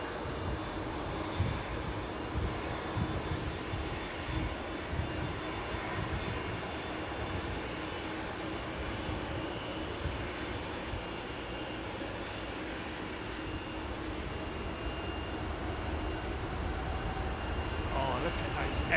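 Jet engine thrust at London Heathrow Airport rumbles at a distance as a steady, broad roar that lasts the whole stretch and stays moderately faint throughout.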